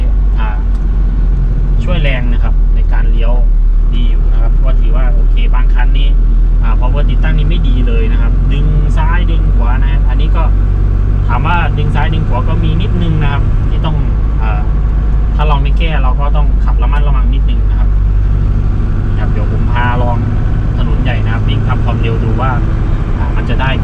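A 1992 Isuzu pickup truck with a 90 hp engine drives along, its engine drone and road roar steady and loud throughout, with someone talking over it.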